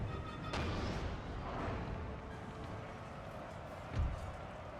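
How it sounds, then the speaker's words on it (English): A musket volley in the Napoleon: Total War battle game, heard as a sharp, booming crackle of massed fire at the start and again near the end, over a constant rumbling battle ambience. "Fire a volley"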